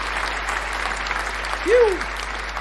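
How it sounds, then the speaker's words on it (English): Canned crowd applause played during a live garden show stream rings out as a steady wash of clapping, with a man's brief exhale and voice rising near the end. "The crowd applause."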